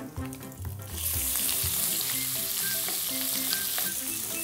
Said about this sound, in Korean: 돼지 비계가 노릇노릇 튀겨지듯이 익고 있으면 이후에다가 이제 고기.